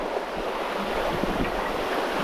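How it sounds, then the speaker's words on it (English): Ocean waves roll in and wash steadily, heard from on the water with wind buffeting the microphone, a continuous rushing surf with no voices. "Here comes those waves."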